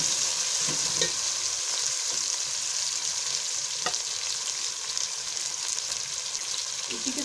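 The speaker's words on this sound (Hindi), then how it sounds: "और टमाटर को थोड़ी देर भूनेंगे।" Tomatoes frying in a pan for kadhi pakora, a continuous bright sizzle with crackling pops and occasional stirring scrapes, close and steady with no talk.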